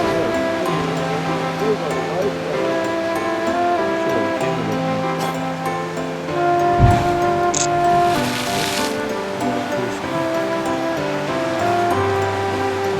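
Ocean surf rumbles and washes continuously at Kiama, New South Wales, swelling at times with bigger sets, while people talk over the steady roar of the waves.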